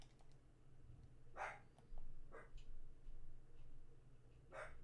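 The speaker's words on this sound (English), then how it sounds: "Dogs, stop barking." Dogs bark indoors, a few short faint yelps spaced apart over a quiet background with a low steady hum.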